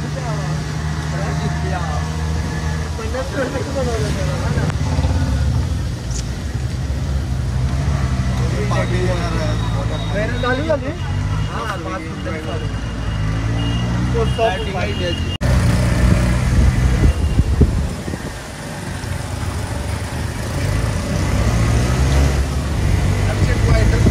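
An auto rickshaw ride through traffic carries a constant engine rumble and passing road noise beneath near, continuous conversation.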